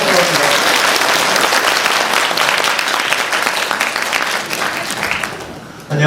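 Loud, sustained applause from a lecture audience welcoming the speaker at the National Museum of Modern and Contemporary Art, Seoul, filling the room steadily for several seconds before tapering off near the end.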